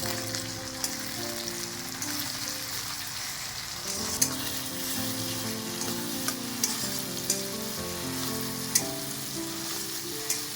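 Chopped tomato fries with browned onions in a pan, making a continuous hissing sizzle with occasional sharp crackles and the clatter of stirring throughout.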